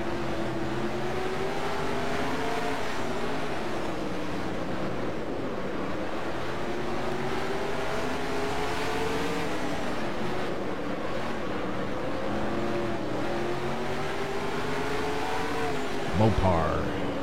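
A race car engine drones steadily throughout a racing video game lap, its pitch rising and falling with shifts and turns, with a brief sharper burst near the end.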